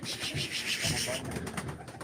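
Pigeons coo amid the bustle of a live pigeon auction, low rolling calls under a hiss of background noise and faint voices.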